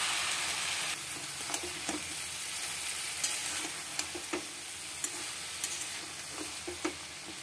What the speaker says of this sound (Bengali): এবার এই মশলাটাকে একটু ভালো করে কষাবো।